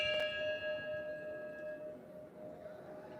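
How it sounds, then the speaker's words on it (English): A hand bell rings once with a sharp strike and long sustained metallic ringing tones that slowly decay, used as a distraction during a Mondioring dog trial at a world championship in Portugal. "See, with this bell."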